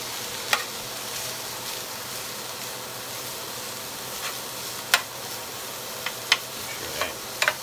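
Sausage frying in a pan makes a soft, continuous sizzle, broken by a few sharp clicks and scrapes as it is stirred with a utensil.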